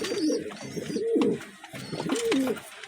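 Pigeons coo nearby in three rounded, throaty calls spaced about a second apart, with faint chirps and light background noise between them.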